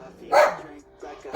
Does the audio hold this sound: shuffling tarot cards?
no